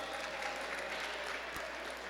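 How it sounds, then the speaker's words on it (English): Students at a public charter school presentation give a short, even round of clapping, somewhat distant and soft, with one brief sharp knock partway through. "Give them a round of applause."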